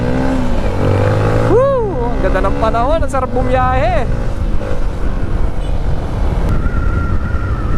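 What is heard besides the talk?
motorcycle riding on a mountain road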